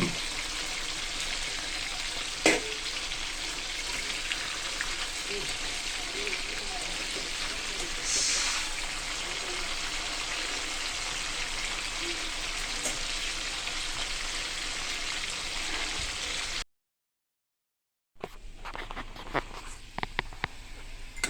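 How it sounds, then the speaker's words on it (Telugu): Chicken pieces for a tamarind-leaf chicken dish sizzle and fry steadily in a pan, a dense continuous crackle with occasional stirring clinks, briefly cut off near the end before the frying resumes. "ఇలా చికెన్ మొత్తం వేసుకొని బాగా ఫ్రై చేసుకోవాలండి."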